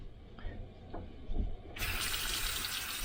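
Water gushes from a swivel-neck tap into a cabin sink aboard the cruise ship Nieuw Amsterdam, starting abruptly after a quiet opening with faint background sounds, then pouring in a loud, steady, close-up hiss.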